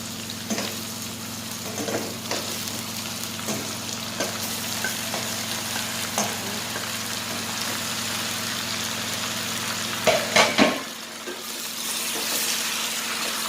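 Fried chicken stirred into chicken caldereta in a pan, producing a continuous close sizzle with scattered scraping clatters of a spoon, a brief louder burst of stirring near the end, then steady bubbling.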